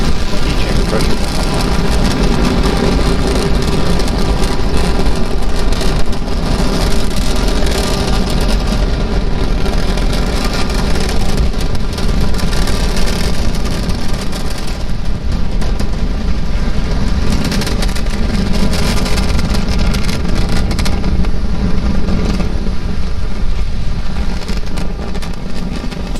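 A SpaceX Falcon 9 carrying a GPS satellite roars continuously after liftoff, a loud, dense low rumble that holds steady for the whole stretch, with a commentator's voice over it.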